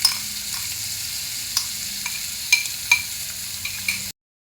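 Two chopped onions stirred and frying in a pan with oil and salt, a soft continuous sizzle broken by several spatula scrapes and clinks, heard close with no talking.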